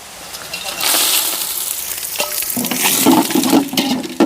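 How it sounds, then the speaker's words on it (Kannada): Whole spices — cinnamon, cardamom, cloves and bay leaf — dropped into hot ghee and oil for mutton dum biryani, giving a steady broad sizzle that grows louder as they hit the pan, with stirring and scraping beneath. "ಅದಕ್ಕೆ ಎಣ್ಣೆ ಬಿಸಿ ಆಯಿತು. ಇವಾಗ ಚಕ್ಕೆ, ಏಲಕ್ಕಿ, ಲವಂಗ ಮತ್ತು ಪಲಾವ್ ಎಲೆ ಹಾಕ್ಬಿಡೋಣ."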